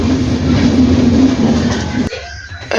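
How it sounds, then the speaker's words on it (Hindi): A train runs through mountainous country toward Katra in Jammu and Kashmir, with a loud, close rumble of wheels on rails that drops abruptly to a quieter hum near the end. "ट्रेन अब स्लो हुआ थोड़ा सा"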